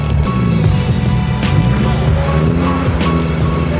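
A Nissan 370Z engine idles nearby, a steady low rumble running throughout with no talk over it.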